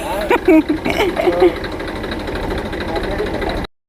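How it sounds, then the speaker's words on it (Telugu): A tractor fitted with a levelling blade idles close by with a steady, throbbing low rumble, while voices talk over it during the first second and a half. "ట్రాక్టర్ అయితే లెవెల్ బ్లేడ్ బ్లేడ్ అయితే తగిలించుకొని వచ్చిందండి"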